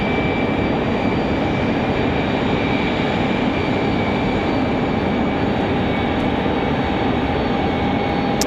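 Airliner arriving at Raleigh-Durham International from Atlanta: a loud, steady broadband engine roar with a thin high whine, continuous and close throughout with no talking.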